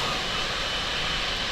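Airbus A380 jet engines in Flight Simulator 2020 give off a steady, dense roar with a faint whine, loud and unchanging for the short stretch, with no voices.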